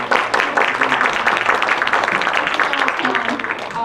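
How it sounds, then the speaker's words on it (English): Conference session audience applauding as a speaker is welcomed to the stage, dense steady clapping for about four seconds with voices mixed in. "Please give a round of applause."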